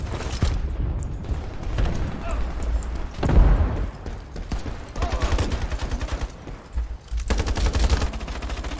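Rapid bursts of automatic gunfire from the Iron Sight online shooter, loud and close with clustered volleys and a heavy boom near the middle, overlapping game effects and a player talking.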